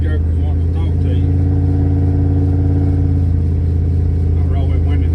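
An LS-swapped Studebaker's V8 drones loudly and steadily at around 2,000 rpm from inside the cabin while cruising, a deep continuous engine note with someone talking over it.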